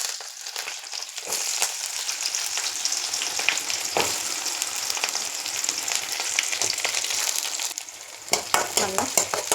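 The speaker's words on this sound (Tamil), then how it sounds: "இப்போ நம்ம கடுகு போட்டுக்கலாம்." Mustard seeds fry in hot oil in a pan, a dense crackling sizzle that stays steady and close while a spoon stirs and scrapes, with a few louder popping scrapes near the end.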